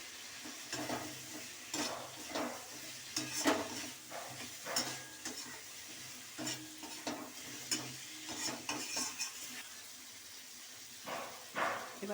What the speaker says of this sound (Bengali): মশলাটা কষা হয়ে গেছে, এবার আমি আলুগুলো দিয়ে দিলাম।